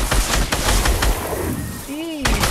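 Bursts of automatic gunfire in a zombie shooter video game crackle in rapid clusters, mixed with excited voices talking over the action.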